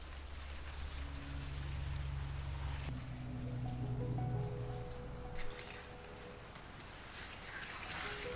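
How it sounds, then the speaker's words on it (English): Wind sweeping across an Indiana corn field on farmland, a steady broad rushing with rustling leaves and some low microphone buffeting throughout, no voices. "the sound of wind that comes across the agricultural lands of Indiana hits this corn"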